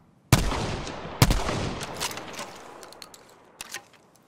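A breech-opening double-barreled shotgun in Battlefield 5 fires two loud, close blasts about a second apart, each ringing out into a decaying echo, followed by faint mechanical clicks of the action.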